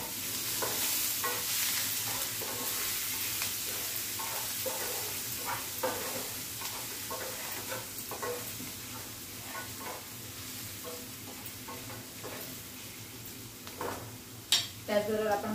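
Onion sautéing in oil in a pan, a steady soft sizzle with scattered scrapes and clinks of a spatula stirring, ending in a few sharper metallic knocks.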